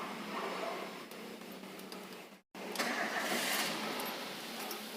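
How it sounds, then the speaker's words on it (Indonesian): A car engine is started inside the vehicle, giving a steady broadband mechanical roar that drops out briefly midway and then resumes at a similar level. "Sekarang kita coba teman-teman, kita nyalakan mobilnya dulu."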